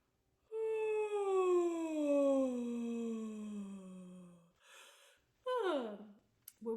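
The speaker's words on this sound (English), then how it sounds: "now I want you to do a big yawn." A person doing a voice workout lets out a long, exaggerated yawn-like voiced sigh that glides slowly downward in pitch, close and clear, followed by a breath and a shorter falling vocal sound.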